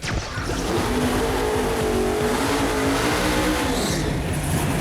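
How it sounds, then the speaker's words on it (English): A 1968 Chevy Camaro's engine revs hard while tires squeal and spin against pavement in a mini burnout, a loud sustained screech rising and falling over a few seconds. "Kind of a mini burnout there."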